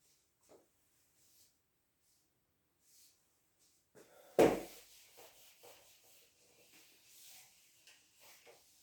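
Writing is rubbed off a board in short, scattered scrapes, faint and near, with one louder sharp swipe partway through and quiet gaps between strokes.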